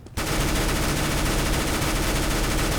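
Continuous rapid-fire burst from a P90 in Counter-Strike: Global Offensive, a loud unbroken automatic rattle that starts abruptly and runs to the end.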